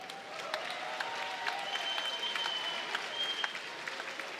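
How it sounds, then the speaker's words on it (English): Crowd applause for two fighters after an MMA bout, a distant, fairly faint smattering of claps and scattered cheers filling the arena, with no talking over it. "All right, a round of applause for these two fighters."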